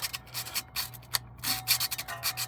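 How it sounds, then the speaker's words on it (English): Sandpaper rubs by hand on a brake part during a Toyota 4Runner brake pad change, quick repeated close scuffing strokes in an uneven rhythm, with no talking. "I'm going to sand it up."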